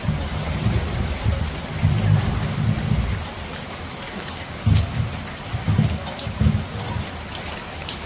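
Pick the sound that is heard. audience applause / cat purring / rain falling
rain falling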